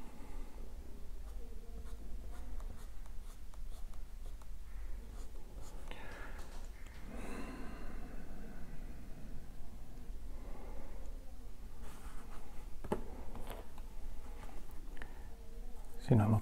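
Pencil drawing an eye on paper during an art lesson, steady soft scratchy strokes running continuously at close range, with quiet speech-like murmuring in places.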